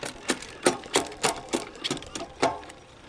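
An electronic shifter on a road bike with disc brakes moves the chain across to the outermost rear sprocket, giving a close series of about eight short mechanical clicks and whirs in quick succession.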